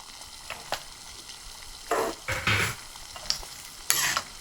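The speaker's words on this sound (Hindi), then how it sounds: "अब मैं भिंडियाँ इसके अंदर डाल दूंगी" Okra tipped into a pot and cooking, heard as a few separate bursts of stirring and sizzle with clattering pauses between them, close and fairly quiet, no one speaking.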